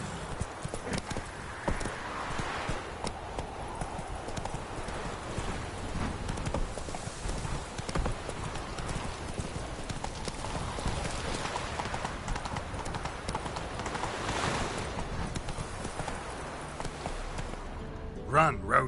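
Roach the horse gallops in a video game, a steady clip-clop of hooves running continuously under a constant wash of background ambience, with a voice talking over it.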